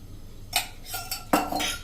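A spoon clinks against a pan as ghee is added, with a few light metallic taps and scrapes close by in a quiet kitchen.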